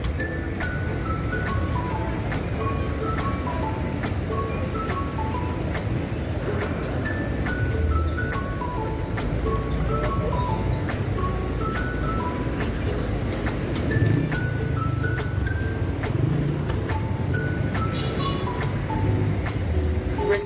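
A car drives through busy Metro Manila traffic from P. Gil St. and Taft Ave., with a continuous engine and road rumble while an ice cream truck style jingle repeats nearby.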